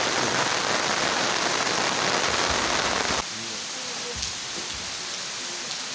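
Heavy rain in a farming area of Chhindwara, a loud dense hiss that drops suddenly partway through to a quieter steady patter, with no talk.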